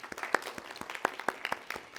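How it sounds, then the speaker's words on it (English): Light, scattered clapping from a small audience at a university meetup, steady and unhurried, with no voices over it. "can you clap lightly and keep it clapping?"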